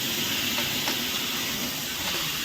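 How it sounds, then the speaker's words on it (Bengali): Chicken meat poured into a pan of fried onions sizzles with a steady, loud hiss that holds without break, with no talking. "পেঁয়াজ ভাজা হয়ে গেছে এবার মাংস ঢেলে দেবো"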